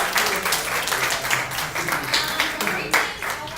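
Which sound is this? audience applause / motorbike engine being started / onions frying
audience applause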